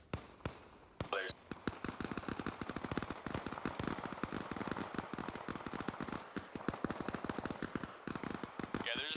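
Rapid gunfire crackling in quick, steady bursts through most of the scene in the video game Arma Reforger, fairly close and loud against a busy battlefield, with players talking under it.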